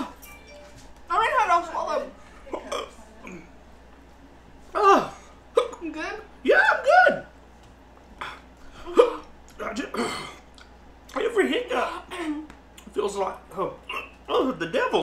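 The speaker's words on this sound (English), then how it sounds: "Just give me hiccups." Someone hiccups repeatedly, in short sharp catches, after eating an extremely hot chili gummy bear, mixed with gasps and pained talking close up.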